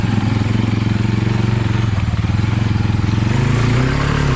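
A Big Red ATV engine runs steadily while submerged in a pond, giving a loud, continuous, chugging drone with a fast pulsing rhythm and a slight rise in pitch near the end.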